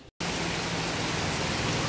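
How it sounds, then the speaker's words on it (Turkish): Heavy tropical rain pours down in Florida, a dense, loud, continuous roar of drops that starts abruptly after a brief silence and holds steady without any talk. "Şöyle felaket bir tropikal yağmur yağıyor."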